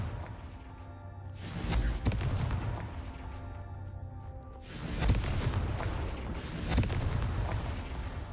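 A Confringo fire spell explodes in Hogwarts Legacy, heavy booming blasts with deep rumbling low end, one burst around two seconds and a broader roaring burst near five seconds, no talk.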